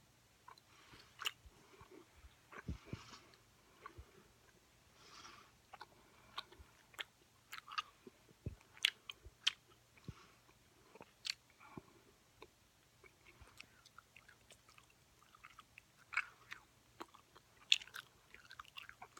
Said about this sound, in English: Gum time. This is my extra watermelon gum.